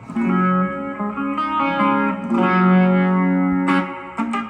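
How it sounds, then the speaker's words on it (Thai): An electric guitar played through a Korg AX3000G multi-effects unit plays sustained chords and single notes with a clean, shimmering chorus effect, ringing out loudly with no voices. "แบงค์นี้จะเป็นเสียงคลีนคอรัสละ"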